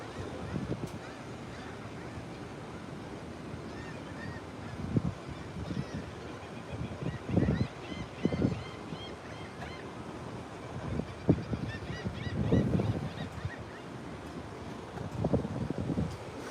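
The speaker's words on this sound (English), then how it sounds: "Here are a few birds who are chirping away." A few birds call and honk outdoors with wind buffeting the microphone, irregular bursts over rough background noise, and a person talking now and then.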